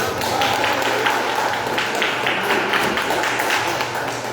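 A church congregation claps in a steady, rhythmic beat, a loud, continuous run of close-up hand claps with some voices mixed underneath.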